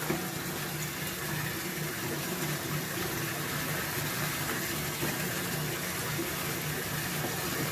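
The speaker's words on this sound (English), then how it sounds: "So first, I'm literally, look, putting it in water." Water runs steadily from a tap or filling basin while a Samsung Galaxy A41 smartphone is dipped into it, a constant, moderately loud gushing wash with no pauses and no speech.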